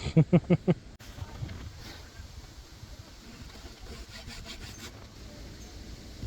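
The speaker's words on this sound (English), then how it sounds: "Metal blade hacksaws make really nice straight cuts in dowel rods." A metal-blade hacksaw cuts through a wooden dowel rod with steady rasping back-and-forth strokes, preceded by a few loud, sharp knocks at the start.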